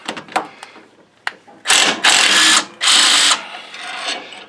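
Impact wrench on a John Deere riding mower pulley bolt, with three loud, sustained bursts of rapid hammering after several short taps and clicks, up close.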